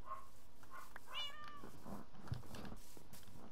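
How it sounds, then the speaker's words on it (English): Cat meowing in the Minecraft video game, a few short rising meows heard near and clearly over a quiet room background. "No, it's my cat."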